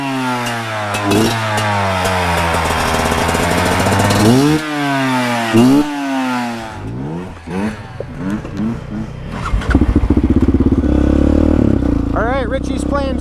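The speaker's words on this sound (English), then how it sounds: "So these guys are on Beta dirt bikes." Beta dirt bikes ride along a wooded trail near the river bottoms, engines revving and rising in pitch through repeated bursts of throttle, loud and close, with a rider's voice heard over the engine noise.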